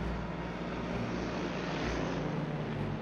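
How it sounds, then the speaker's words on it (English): Piston engines of WWII fighter aircraft idling together, one of 23 planes lined up for takeoff. They make a steady, loud, rumbling drone with a low throbbing hum that holds constant throughout, with no voices. "there I was, one of 23 aircraft, lined up, waiting to take off"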